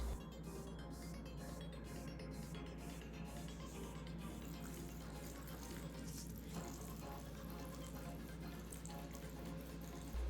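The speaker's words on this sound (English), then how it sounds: "We're gonna go ahead and just pour our broth all over this." Broth is poured over a bowl of ramen with vegetables in a boba and ramen shop, a steady close splashing pour running for about ten seconds against a low background hum.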